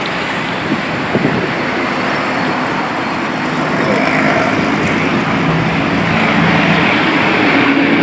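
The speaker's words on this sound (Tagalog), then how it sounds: "Yan po yung traffic dyan." Heavy, congested road traffic by a bridge, a steady loud rumble of cars and buses with passing engine swells and no voices.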